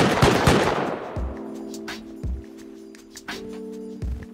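An automated turret in the video game Rust opening with a loud dense burst of gunfire, followed by sparser rhythmic shots and echoing impacts ringing out over several seconds.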